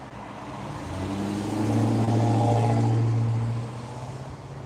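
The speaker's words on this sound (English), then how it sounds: "Give you a little bit more of an angle there so you can see the traffic." Road traffic in Pigeon Forge rolls past nearby, with a vehicle engine swelling to a loud mid-pitched drone, holding for a couple of seconds, then easing back under steady background traffic noise.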